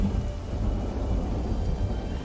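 A thunderstorm with heavy rain plays out in a dinosaur video game at night. Deep, rumbling thunder rolls under a dense, steady wash of rain throughout.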